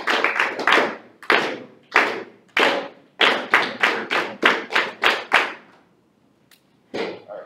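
An eighth-grade class claps a counted rhythm chart together in unison, sharp group claps falling in short bursts and steady patterns, with a brief pause before another burst near the end.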